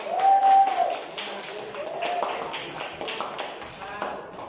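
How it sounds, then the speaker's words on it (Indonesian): Applause for a student group at a teacher-training class presentation in Jakarta, a scattered patter of claps that rises briefly and then thins out, heard alone with no talk. "tepuk tangan buat kelompok 1"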